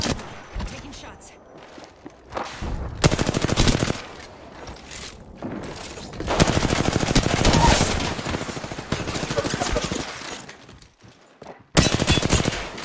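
Rapid automatic gunfire in a shooter video game, several long bursts of dense, loud shots separated by quieter stretches with footsteps and scraping, with a voice talking intermittently underneath.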